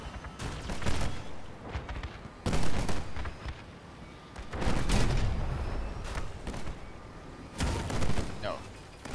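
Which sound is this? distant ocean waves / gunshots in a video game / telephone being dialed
gunshots in a video game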